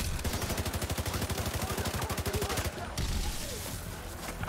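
Rapid gunfire in The Division 2 on PC, a fast run of evenly spaced shots for nearly three seconds, then a brief pause and a denser burst of game noise and effects.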